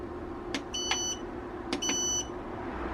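Two pairs of short, high electronic beeps, each pair a quick double chirp, over a steady low background hum.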